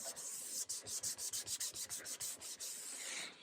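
Rhythmic back-and-forth sanding of a nitrocellulose lacquer finish, about a dozen quick scratchy strokes in steady succession, close up with no voices.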